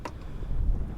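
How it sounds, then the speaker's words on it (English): Wind gusts across a fishing boat on open water in West Bay, Galveston, a steady low rumble of buffeting with a brief louder gust at the start, no speech. "Another windy day out here, West Bay, Galveston."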